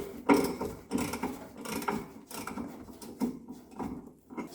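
A ratchet works a nut loose on a VW Beetle, giving a series of close, uneven clicking strokes with short pauses between them.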